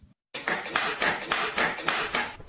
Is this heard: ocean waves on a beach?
no